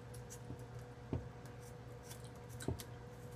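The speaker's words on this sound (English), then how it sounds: "Now here you can use the scissors." Scissors snip through the tough skin of a dead channel catfish, a few sparse, quiet cuts spaced well apart against a low steady background hum.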